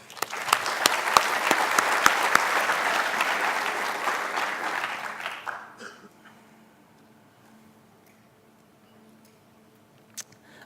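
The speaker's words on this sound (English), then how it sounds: "applause again for the winner and all the participants of this contest too." A conference audience claps for contest winners and participants, a loud steady round of applause for about five seconds that stops abruptly, leaving a quiet room with faint background hum and an isolated knock.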